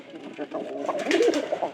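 Pigeons coo softly at close range in short throaty bursts, with a voice talking over them.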